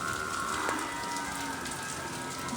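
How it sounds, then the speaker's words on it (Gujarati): Slow, steady monsoon rain falls continuously in an even, close hiss of drops on surfaces, with no voices. "ત્યાં તો એકવારનો વરી વરસાદે રાઉન્ડ લઈ લીધો"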